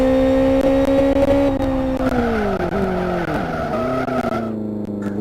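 Race cars at the Kent AutoPrix rev and spin their tires to warm them, loud sustained engine whine sliding down in pitch with squealing, skidding tires close by.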